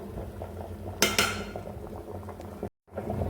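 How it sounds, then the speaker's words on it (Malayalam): Cassava bubbling in a pot on the stove, a steady simmer with a couple of brief metallic clinks and a sudden cut near the end. "നമ്മുടെ കപ്പയൊക്കെ നന്നായിട്ട് തിളച്ചിട്ടുണ്ട്"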